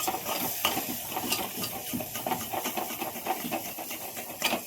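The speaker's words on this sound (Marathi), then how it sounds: "तर आता सगळं साहित्य मिक्स करून घेऊ" Spices such as turmeric, salt, chilli powder and garam masala are mixed together in a pan for stuffed brinjal, with a continuous soft sizzle broken by repeated scraping strokes at a steady rhythm.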